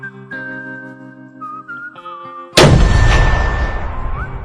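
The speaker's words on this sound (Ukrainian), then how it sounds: "Романтичну тишу порушив мінометний вибух, який стався метрах в ста від товаріщей." A loud, sudden mortar explosion bursts in partway through, about a hundred metres away, following quiet tonal whistling and hum, then a long rumbling decay with a faint whistle lingering.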